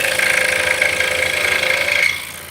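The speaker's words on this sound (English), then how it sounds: "So we're cutting 5/8 inch hard maple." A power tool cuts 5/8 inch hard maple for drop spindles, giving a steady, loud mechanical whine that runs evenly and then cuts off abruptly near the end.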